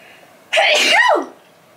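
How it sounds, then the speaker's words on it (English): A single loud human sneeze bursts out close by after a brief quiet moment, a sharp intake followed by the explosive release, then quiet again. "I need to sneeze."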